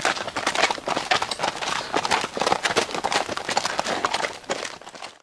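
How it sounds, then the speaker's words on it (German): Dense, rapid clip-clopping of horse hooves sounds close and loud as a rider turns back, a busy rhythmic patter with no talk over it. "Ich werde mich umdrehen und zu ihm reiten."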